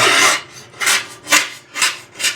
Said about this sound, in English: you hear how nasty that stuff is and hard it is to scrape it off